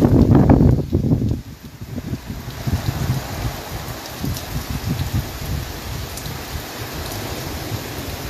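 During a storm in the Philippines, rain falls steadily with gusting wind in a continuous broadband hiss, with loud wind buffeting on the microphone at the start and then a steady rush.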